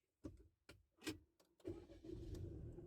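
Cold start of a Peugeot 3008's 1.2 litre petrol engine: a few short cranking bursts, then the engine catches and settles into a steady, close idle.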